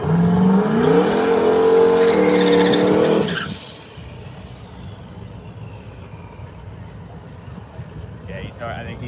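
A Camaro drag car at Brainerd dragway roars loudly up through its revs for several seconds, then the engine noise drops away to a distant rumble, with a short burst of sound near the end.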